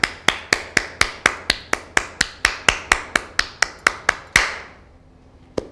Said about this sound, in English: I'm beginning to clap.